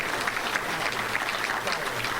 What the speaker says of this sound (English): Let's give them a round of applause for a great job they do every week.